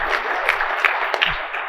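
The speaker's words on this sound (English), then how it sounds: "A lot of applause." A conference audience at a mortgage business event claps in a short burst, steady and moderately loud, with a few louder claps and a faint murmur beneath.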